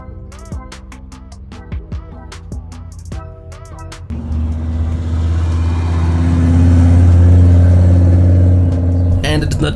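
Mercedes C63 driving past at a cars and coffee supercar meet, a loud close engine roar that kicks in suddenly after clicking and handling noises, building and holding strong before cutting off.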